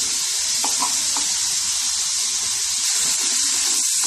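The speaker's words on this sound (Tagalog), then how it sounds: "Stir it well." Pancit bihon rice noodles with shrimp and soy sauce are stirred in a pan at a beach resort. There is a loud, close, constant hissing sizzle, with a few brief scraping clinks near the start.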